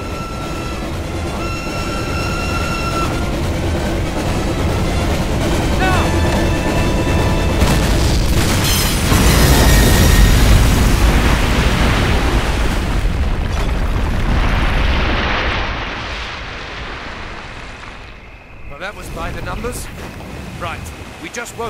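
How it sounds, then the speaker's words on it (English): A train bridge blown up by a detonation in Call of Duty: United Offensive, a sustained roaring explosion that swells over several seconds and then dies into a long rumbling, debris-filled decay with a later smaller burst. "Detonate on my command."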